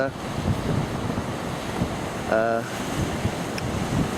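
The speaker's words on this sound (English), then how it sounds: "You see the waves breaking across it, right out along the headland there." Surf breaking across black rock along a headland by an old harbour entrance, a rough, steady wash of water mixed with gusting wind noise, with a brief tonal hum partway through.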